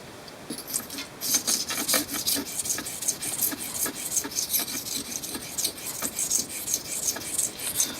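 Rapid rasping strokes of a file sharpening a blade, a steady quick back-and-forth rhythm close up, loud and continuous with no talking.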